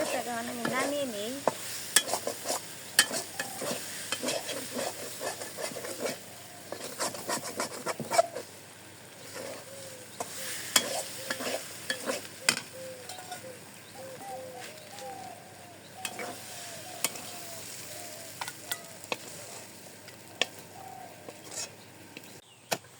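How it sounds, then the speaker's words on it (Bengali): Food frying in a pan in a village kitchen, stirred by hand: soft scraping and sizzling at close range with intermittent clinks, while birds call faintly in the background. "নাড়াচাড়া দিয়ে দিই।"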